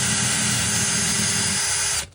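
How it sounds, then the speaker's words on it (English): A tap cutting threads into a stainless steel hole for number 6 screws, 32 threads per inch, gives a loud, steady, broadband whirring grind that runs unbroken and then cuts off abruptly at the end. "you need to tap the hole with threads for these screws"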